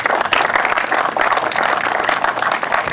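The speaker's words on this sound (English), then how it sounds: "Jim Kerwin gets a big round of applause" An outdoor crowd at a high school baseball field dedication ceremony claps in sustained, dense applause for a contractor, holding an even level throughout.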